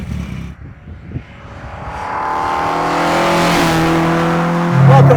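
An MST Mk1 Ford Escort rally car, a 1970s-style rally recreation, drives on mountain roads in Snowdonia, its engine climbing in pitch as it accelerates into a loud, sustained rasp close by.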